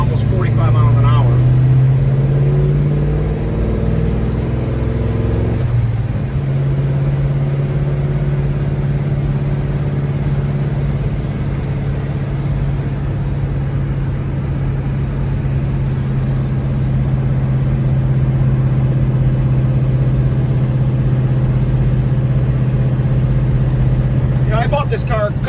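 Steady rumble of a 1970 Chevrolet Chevelle SS 454 restomod's V8 heard from inside while cornering at about 45 mph, a low drone with a brief lift and swell early on and someone talking over it throughout.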